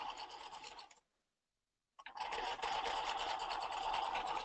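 A sewing machine stitches the facings on brocade with a slightly longer stitch, two bursts of steady motor whir separated by a one-second pause, close and fairly loud.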